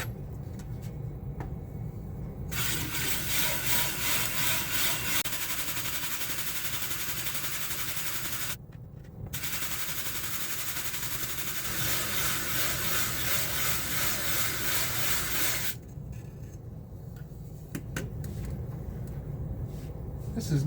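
A wood lathe spins a roasted maple blank being turned into a 5-inch flower pot, giving a steady loud whirring hum and rush that runs almost unbroken for about thirteen seconds, with a brief dip partway through and quieter motor drone at either end.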